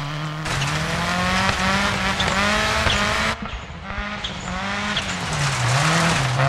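Subaru Impreza rally car in the Dirt Rally video game on the Wales stage Pawn Moor, its engine roaring loud and close with rising and falling revs, a brief lift off the throttle partway through, and tyres hissing on gravel.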